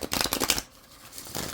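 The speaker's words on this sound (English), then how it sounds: "I'm going to shuffle these cards up and give you answers" Tarot cards are shuffled in quick riffling bursts, close and crisp, pausing briefly before a second shorter shuffle starts.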